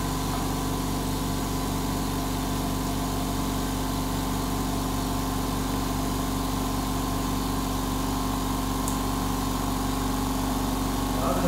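A STAR 30-litre air compressor runs on a table while filling its tank, a steady, continuous motor drone with a low mechanical hum that holds unchanged throughout.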